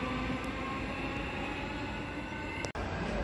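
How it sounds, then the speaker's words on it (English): Perth electric multiple-unit train pulls into platform 1 at Joondalup station, a loud continuous rumble and rolling hum with a sharp clunk near the end. "now arriving on a platform 1, we have a Perth service"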